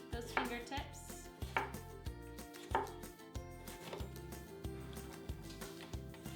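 A knife dices apple pieces on a cutting board with a run of crisp, evenly spaced chops. The chopping sits close and clear over a quiet musical background.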